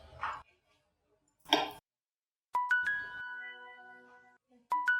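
A mobile phone rings with an incoming call in a quiet room, a few short electronic tones sounding after some faint clatter.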